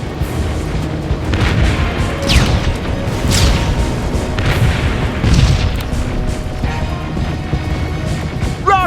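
Heavy rocket explosions in the game Terminator Resistance, a run of deep booms and crashing blasts arriving one after another over several seconds, loud and close, with whistling sweeps between impacts and no talk.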